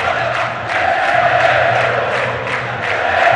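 São Paulo FC supporters shout and chant together in the stadium during a 2008 Copa Libertadores quarter-final against Fluminense, a steady massed roar that swells and fades in waves, heard from a distance throughout.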